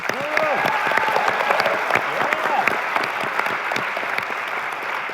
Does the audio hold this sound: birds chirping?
no